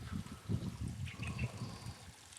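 Water trickles slowly over rocks at Mitchell Falls along the Gibb River Road, a soft, steady, faint dribble with gentle low gurgles and no voices.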